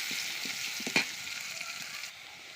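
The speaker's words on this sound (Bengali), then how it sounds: "প্রথমে পেঁয়াজ কুচি দিলাম। পেঁয়াজ কুচি দিয়ে নাড়াচাড়া করে নেব।" Chopped onions sizzle softly in a pan, with a few scraping stirs and a brief louder clack near the start before the frying settles into a quiet hiss.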